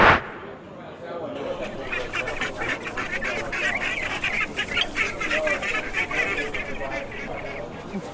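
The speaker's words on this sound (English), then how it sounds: "Family of ducks." A family of ducks quacks and honks near a boathouse restaurant in Cincinnati, Ohio, the calls steady and fairly close, with people talking over them.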